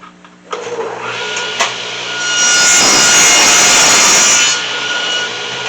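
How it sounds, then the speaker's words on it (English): A saw cuts wooden fence pickets to length, a motor spinning up and then a louder, rough rasping cut that rises, holds for a couple of seconds and eases off, close and alone. "we're going to go ahead and cut the pickets to 34 inches"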